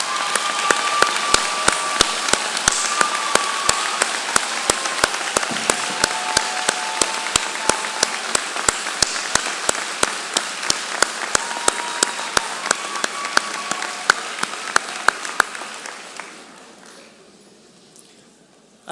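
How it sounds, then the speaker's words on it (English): A commencement audience gives sustained applause for first-generation graduates, dense clapping with a few sharp claps standing out, holding steady before fading to quiet near the end. "a well-deserved round of applause"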